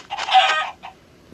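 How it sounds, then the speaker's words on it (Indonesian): Chickens clucking together in a short, busy burst, a brief cackle followed by a softer cluck, fairly close. "Oh, banyak ayam. Oh, banyak ayam guys."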